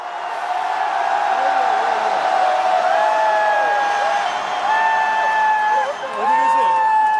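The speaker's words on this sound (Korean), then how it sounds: "전방 함성 3초 발사!" Dense crowd at a political rally in Gwangju shouts and cheers in unison, a loud sustained roar with rising whoops and whistles swelling again near the end.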